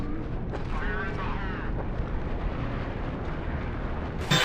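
A grenade goes off in Counter-Strike: Source, a loud booming blast heard near the end after a stretch of game noise. Players' voices come before the blast.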